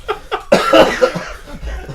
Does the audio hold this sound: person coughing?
yes